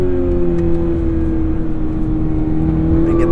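A 2022 Toyota GR86 engine holds a loud, steady high rev during a drift, with a strong sustained tone over continuous tire and road roar, close and without pause.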